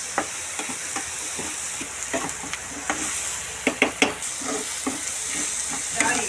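Onions sautéing in a pan, a loud, close sizzle with repeated spatula stirring scrapes and clacks, busiest in the middle stretch, with no voice.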